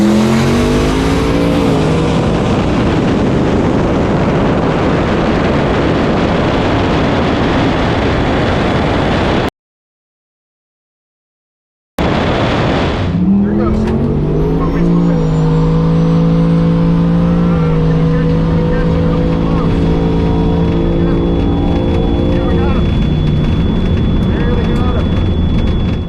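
Drag racing cars making quarter-mile passes at a strip with turbo trucks and big-tire muscle cars, a loud sustained engine roar that cuts out briefly, then another engine revs up and climbs through its gears.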